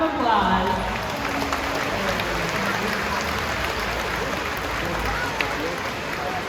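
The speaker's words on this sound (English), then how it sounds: "Give yourselves a big round of applause." Audience applause at an orca encounter show at SeaWorld, a dense steady wash of clapping and crowd noise holding at an even level throughout.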